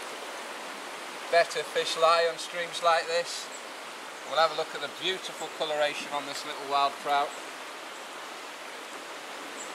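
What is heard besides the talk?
small stream flowing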